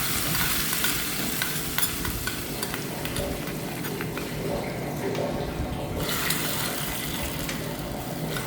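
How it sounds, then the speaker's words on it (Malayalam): Spices fry in a hot pan for a sambar tempering, a loud, continuous crackling sizzle with scraping stirs and small clinks, close up and without speech. "അപ്പോൾ ഇനി ഞാൻ ഇതിലേക്ക് ഫ്രൈ ചെയ്തിടാൻ പോകുന്നു"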